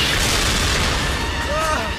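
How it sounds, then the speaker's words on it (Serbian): Repeated explosions in an animated Teenage Mutant Ninja Turtles cartoon episode, a dense continuous rumble of blasts and booms filling the whole stretch with a high whistling streak near the end. "Primam signale da se dešavaju višestruke eksplozije."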